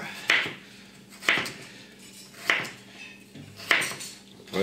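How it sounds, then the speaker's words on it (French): Kitchen knife cutting carrots lengthwise on a board; four evenly spaced sharp taps of the blade striking the board, close and clear with light scraping between strokes. "Vous les coupez dans le sens de la longueur."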